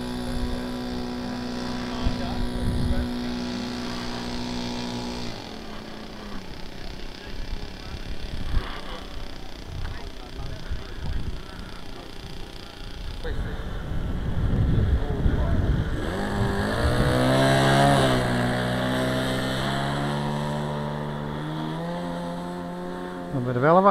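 A Seagull Swift RC model plane's engine at its maiden flight takeoff, its drone steady at first and then climbing in pitch and swelling in loudness as the plane accelerates, with voices talking over it.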